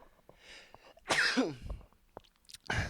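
A single sharp sneeze bursts out, close and fairly loud, surrounded by near silence and faint small noises.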